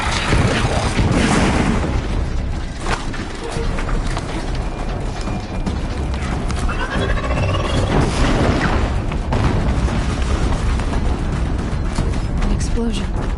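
Explosions in the video game Horizon Zero Dawn, booming blasts and mechanical clanks layered over a dense, loud game soundscape, with talk throughout.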